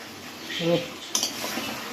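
Goat meat sautéed and stirred in a pot, a low background sizzle broken by a couple of brief metal utensil clinks and scrapes against the pot.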